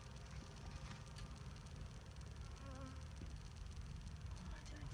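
Honey bees buzz steadily around hive frames as a hive is split and a queen introduced, a dense continuous drone with faint voices and handling noise in the background.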